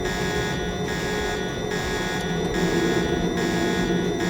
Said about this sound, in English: I think that alarm will die down in a little while